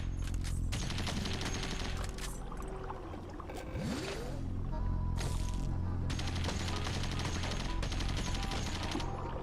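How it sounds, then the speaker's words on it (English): A chain gun fires in a video game in rapid bursts of gunfire broken by short pauses, with a whistling sweep and crashing impacts, loud and close. "Chain gun."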